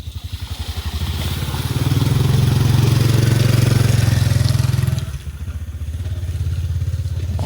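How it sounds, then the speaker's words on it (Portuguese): A motorcycle engine rumbles close by on a street, rising to a loud sustained drone as it passes and then dropping back to a lower throbbing, with other traffic going by and no talking. "carro, moto, estão tudo passando pelo outro lado aí"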